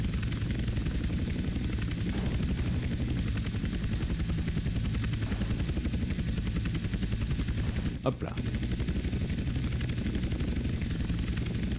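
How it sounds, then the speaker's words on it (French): Helicopter rotor drone from GTA San Andreas, a steady continuous whirring throb held for the whole stretch, with a brief sharp burst near the end and someone speaking over it. "Pose l'hélico dans la zone indiquée."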